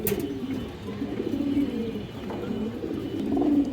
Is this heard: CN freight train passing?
no